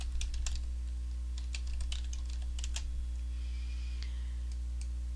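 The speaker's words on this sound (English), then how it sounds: "click in your document and then go ahead and type your text" Quick, irregular clicks of typing on a computer keyboard while entering text in a Photoshop CS3 document, close and fairly quiet over a steady low electrical hum.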